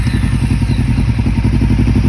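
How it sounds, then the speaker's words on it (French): A Kawasaki ER-5 motorcycle, dirty and hooked to a charged battery, fires up into a loud, steady, close idle with a rapid, even thumping pulse throughout. "Emran, on va essayer de démarrer la moto."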